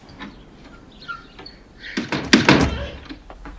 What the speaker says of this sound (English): when he closes the door on Diane Keaton in the end, and right after the door slams